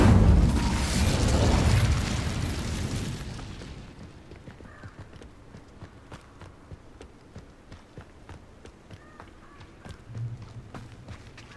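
Incendio fire spell cast in the Hogwarts Legacy video game: a loud burst of roaring flame for about three seconds, fading into quieter game ambience with scattered soft pops and taps.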